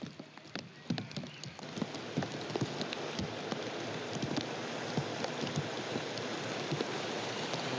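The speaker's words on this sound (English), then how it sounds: "Oh God, it's raining." Steady rain patters on surfaces outdoors on a film set for The Fellowship of the Ring, a dense close hiss with scattered louder drips and taps throughout, no voices.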